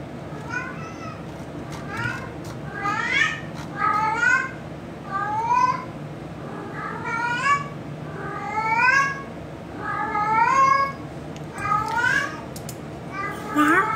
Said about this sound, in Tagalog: kumakanta na yung pusa ko